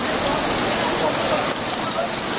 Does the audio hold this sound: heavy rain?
yes